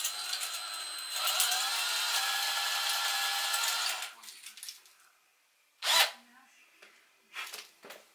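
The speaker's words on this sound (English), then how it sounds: "Drill it again." Power drill whirring steadily for about four seconds, close and loud, then stopping, followed by a few short bursts of handling noise and brief voices.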